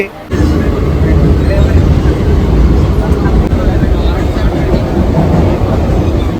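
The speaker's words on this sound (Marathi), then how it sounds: "चला पटकन जाऊया ट्रेनमध्ये बसूया" A Mumbai local train runs with a loud, steady rumble and rattle that fills the whole clip after a brief quiet start, with voices of passengers mixed in.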